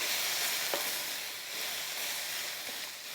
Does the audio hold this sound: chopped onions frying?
yes